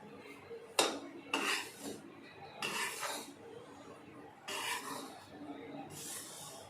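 Roasted chana is stirred with milk powder in a pan over low heat, a spoon scraping and rasping against the metal in four or five separate strokes with quiet gaps between.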